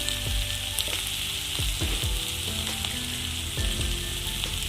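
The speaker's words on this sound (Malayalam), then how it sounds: "ഇതൊന്ന് നന്നായിട്ട് വഴന്ന് വെക്കും" Onion sautéing in oil with salt and turmeric for a masala curry, a dense steady sizzle close up, with a few spoon taps against the pan.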